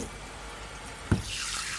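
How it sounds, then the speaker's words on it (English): Cold tap water running into a kitchen bowl, a soft steady hiss of flowing water with a brief clunk partway through and the splash brightening toward the end, no speech. "get a bowl, fill it up with cold water"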